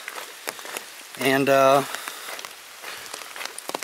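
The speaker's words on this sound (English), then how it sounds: "It's still raining now, but it's let up considerably." Rain falls steadily during a hike on a forest trail, a soft constant patter with scattered drops, while a brief tonal hum rises over it and a voice briefly speaks.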